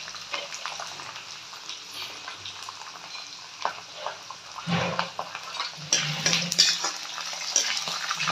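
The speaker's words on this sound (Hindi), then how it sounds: "थोड़े हल्की आँच में ही भूनने पड़ते हैं ये, नहीं तो एकदम से जल जाते हैं ये।" Black soybeans fry in mustard oil over low heat for a Kumaoni dal, giving a continuous soft sizzle with occasional scraping stirs that grow louder and busier toward the end.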